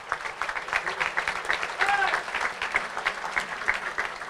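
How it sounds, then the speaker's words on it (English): A crowd applauds steadily for several seconds, dense clapping at moderate volume with a few faint voices mixed in, at an awards dinner. "One big round of applause right now."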